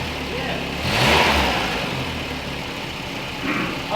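A VW Mk1 Rabbit Pickup engine idles and revs briefly while the truck sits off the ground in neutral, its leaking exhaust adding a rough, breathy roar up close.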